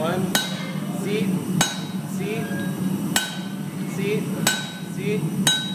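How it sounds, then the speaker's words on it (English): Hammer blows ring out on hot bamboo-style forged stock over a hardie, cutting the knuckles: five sharp metallic strikes spaced about a second and a half apart, each with a short ringing decay and lighter taps and clinks between. "use the hardie to cut your knuckles"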